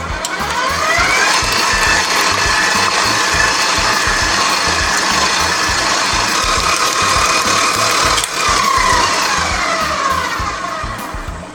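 An electric mixer beats room-temperature eggs and vanilla into creamed butter and sugar for peanut butter chocolate chip cookie dough, a loud, steady motor whir running nonstop with a slight whining pitch.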